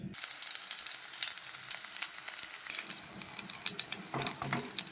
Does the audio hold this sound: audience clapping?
no